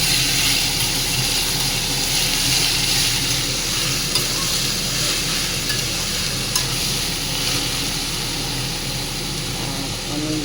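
Nigella seeds, green chilli and ash gourd frying and being stirred in a pan, a loud continuous sizzle with scraping stirs running throughout, close up and without speech.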